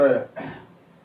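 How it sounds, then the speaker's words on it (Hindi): A man's cough and throat clearing during a spoken Hindi lesson, two short rough bursts with a brief gap, close and fairly loud, speech-like in tone. "खांसी आ रही है"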